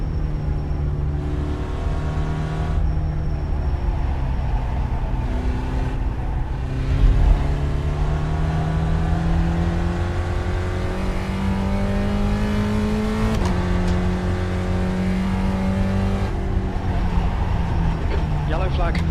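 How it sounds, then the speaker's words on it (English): Race car engine in the iRacing sim drones steadily, its pitch climbing and dropping through gear changes as another car approaches, with a voice talking faintly over it. "There's a car approaching."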